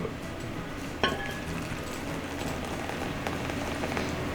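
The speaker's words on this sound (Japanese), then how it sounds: "ネギ入れて、はい、じゃあこれ注ぐ。" Soup with green onions is poured into a bowl in a kitchen, a soft, continuous splashing trickle with a brief clink near the start, close and moderately quiet.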